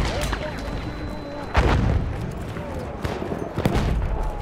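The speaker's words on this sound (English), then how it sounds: "Bomba atıyorum. Size dikkat eyleyin." Booming explosions and scattered gunfire in the Battlefield 1 multiplayer video game, heavy blasts thudding out over a constant din of distant combat noise.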